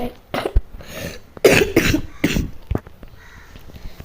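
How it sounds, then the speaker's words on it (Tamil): A person coughs several times in short, rough bursts, close to the microphone, with brief pauses between them. "இருமுறதுக்கு சாரி."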